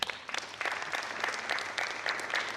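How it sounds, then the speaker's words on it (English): An audience claps at a university career day event, a lively burst of many hands that starts abruptly, holds steady for a couple of seconds and carries no voices. "Yes, clap for them."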